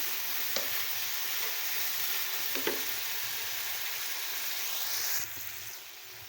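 Chicken Manchurian with chili sauce sizzles steadily in a hot pan while being stirred, with a couple of faint utensil clicks. The loud, even frying hiss drops a little toward the end, and no one speaks.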